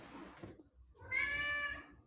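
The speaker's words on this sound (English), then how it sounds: "passing by, meowing randomly" A house cat gives a single drawn-out meow at close range, preceded by a few faint soft sounds, with no talking over it.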